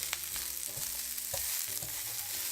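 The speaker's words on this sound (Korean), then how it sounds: "알맞게 익었으면 이제 피망을 넣어서 마지막으로 살짝 볶아줄게요." Green bell pepper stir-fries in a pan for Napolitan spaghetti, a steady sizzle broken by repeated spatula scrapes and tosses, close and moderately loud with no voices.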